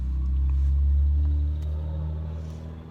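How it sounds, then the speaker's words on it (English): A large truck rolls past from behind, a loud low rumble swelling to a peak around the one-second mark and then easing off as it moves on, with no talking. "there's a big truck coming behind me."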